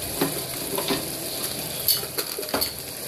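Blended tomato paste sizzles in a hot pan while being stirred for an eggplant dish served with biryani, with a steady frying hiss broken by a few scraping stirs of the spoon against the pan, and no talking.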